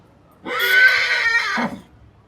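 A horse at the Jagraon horse fair gives a single loud, close whinny lasting about a second, rising sharply and fading into a low snort, with quiet fair background before and after.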